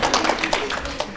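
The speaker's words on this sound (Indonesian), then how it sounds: "Tepuk tangan buat kita semua." Audience applause at a building safety seminar comes as a brief burst of scattered clapping that is moderately loud and fills the room.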